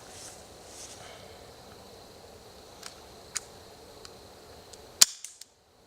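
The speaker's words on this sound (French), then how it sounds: "Donc je vais vider un chargeur sur chaque cible et je dis à chaque fois si c'est touché ou si je tire à côté." Several pistol shots from a USP Match fired at targets, sparse sharp cracks spaced over a few seconds with the loudest near the end, over a faint steady background, no talk.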